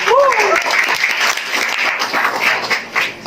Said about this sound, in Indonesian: Sarjana S1, tepuk tangan untuk Pak.